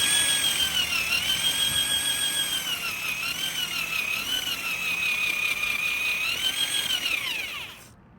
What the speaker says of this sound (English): Be best with a variable speed drill so you don't go too fast